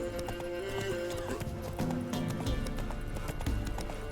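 Rhythmic hoofbeats of Roach, a horse in The Witcher 3, galloping steadily and close, layered over a dense game soundtrack and ambience with a brief whinny.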